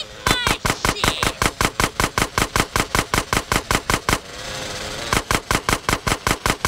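Rapid automatic gunfire from the video game GTA San Andreas, a loud, close, even burst of shots that stops briefly, then resumes in another rapid string.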